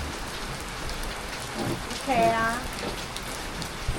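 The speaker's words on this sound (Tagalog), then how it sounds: "inabutan kami ng ulan" Rain falls steadily on a day out in Okinawa, a soft even hiss throughout, while a family talks and a short spoken remark rises over it midway.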